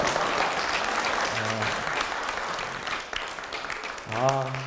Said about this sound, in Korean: 여러분 이 두 목사님에서 박수 좀 줍시다.